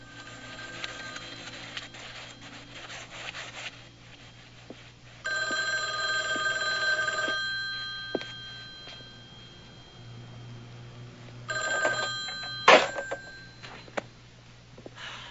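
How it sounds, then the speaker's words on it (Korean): A telephone rings in a quiet room during a scene from the film Frankie and Johnny. It gives two separate bursts of bell ringing over a faint background hum. "프랭키는 전화도 일차 받지 않습니다"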